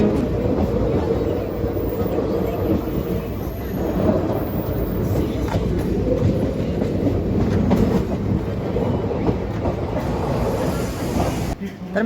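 Koyna Express train 11030 arriving at Karad railway station, a loud, steady rumble and rattling clatter of rolling coaches that fills the whole stretch, with a voice talking over it.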